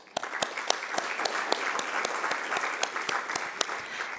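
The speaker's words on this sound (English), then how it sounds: "give out a thunderous round of applause to acknowledge everyone here present today" A conference audience at an agricultural and climate policy gathering in Africa breaks into sustained applause: dense, steady clapping from many hands across the whole stretch, with a few sharper individual claps standing out near the front.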